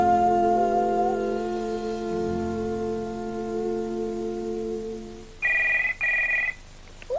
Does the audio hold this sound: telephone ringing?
yes